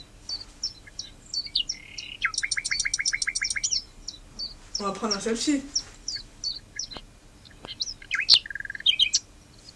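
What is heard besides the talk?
birds chirping and crickets, countryside sound effect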